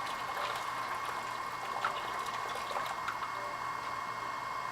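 Water poured out of a glass canning jar while making pickles: a steady, continuous splashing flow at moderate level, with a faint hum beneath it.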